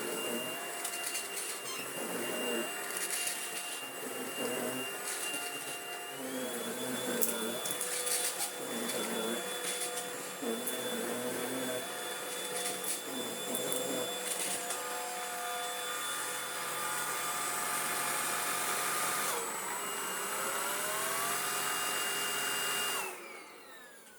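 An Easine G50 cordless vacuum with edge brushes runs with its brush roll on, a steady whirring motor hum whose pitch shifts as it moves across the floor, then cuts off near the end.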